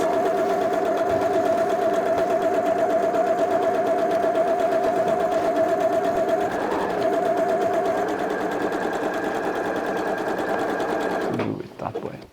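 Sewing machine zigzag-stitching the edges of fabric scraps, a steady continuous mechanical whir up close that runs for about eleven seconds and then stops abruptly.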